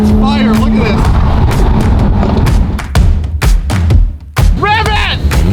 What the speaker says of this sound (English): this car just shoots fire. Look at this.